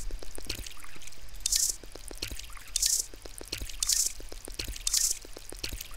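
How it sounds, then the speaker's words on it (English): Plants are watered in the Drug Dealer Simulator video game, with soft repeated pouring and splashing bursts roughly once a second over a quiet background of small clicks and drips, with no voices. "so better water them now"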